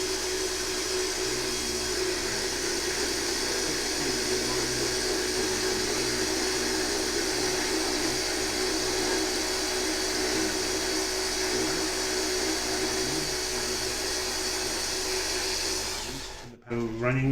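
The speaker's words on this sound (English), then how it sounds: "Running very smoothly, about 3750 RPM." A Jimmy Slots Group 5 slot car motor runs smoothly at about 3,750 RPM, making a steady, even high-pitched whine that holds for many seconds before cutting off abruptly near the end.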